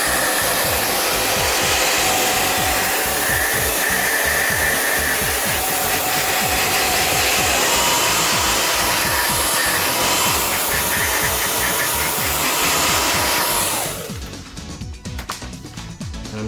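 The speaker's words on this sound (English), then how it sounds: "So now, let's get our hair dryer." A hair dryer blows on a gaming monitor to dry water from its edges, a loud close whooshing fan roar with a rumbling motor hum, cutting off near the end and leaving a faint rattle.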